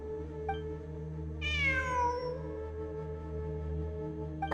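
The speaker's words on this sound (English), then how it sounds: "It really is a cat." A cat meows once in the video game Genshin Impact, a clear rising-and-falling cry over a steady low ambient game hum, with no talking.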